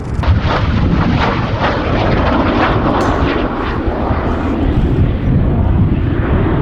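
A Canadair F-86 Sabre jet flying at the Battle of Britain Air Show at Duxford gives off a loud, continuous rumbling roar that stays powerful throughout.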